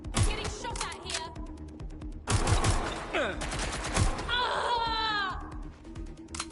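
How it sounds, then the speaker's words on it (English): Bursts of rapid gunfire aimed at the player in Watch Dogs: Legion, loud clustered volleys and single shots in an urban firefight, with a panicked voice shouting between them. "I'm getting shot at here!"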